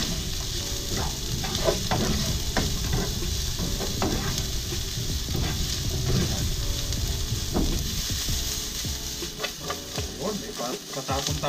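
Onion and garlic sautéing in a pan, a constant close sizzle and crackle of frying with repeated scraping stirs of a utensil against the pan throughout.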